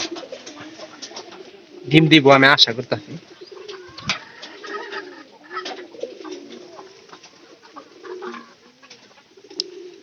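Pigeons coo in a loft where the birds have begun laying eggs, a loud burst of cooing rising early on, then softer coos continuing under someone talking nearby.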